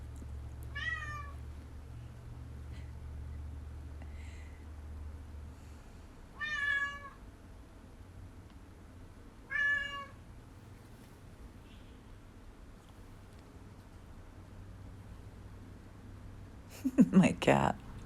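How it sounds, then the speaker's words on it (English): A pet cat meows three separate times, fairly close, with quiet pauses between calls over a low room hum, followed by a brief burst of clattering handling noise near the end. "My cat."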